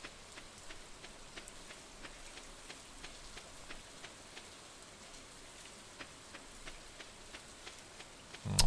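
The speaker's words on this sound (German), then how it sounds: "Warmer Regen ist auch eine schöne Art, um sauber zu werden." Steady rain falls in the farming game Stardew Valley, a soft even hiss with faint scattered drip ticks throughout, heard alone at low level with a brief louder burst at the very end.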